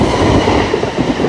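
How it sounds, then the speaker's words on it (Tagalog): A train arriving at a station in Tainan, a loud close rumble of rail cars with rhythmic wheel clatter filling the whole moment, no voices. "Mag-antay muna kami ng tren."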